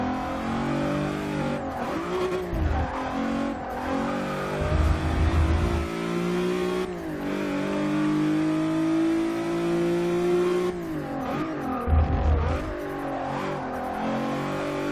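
A turbocharged VW Golf R32 engine revs hard and continuously on a track, its pitch climbing and dropping through gear shifts, loud and close with no talking.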